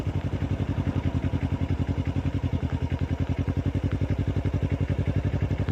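A 2009 Kawasaki Ninja 250 motorcycle on a test ride, its small engine giving a steady, close, rapidly pulsing drone with light rattling and no talk.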